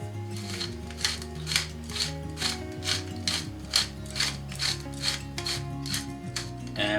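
Black pepper cracked in a pepper mill while seasoning food in a home kitchen: a steady series of about fifteen crisp ratcheting grinds in even rhythm, close and fairly loud, with no talking.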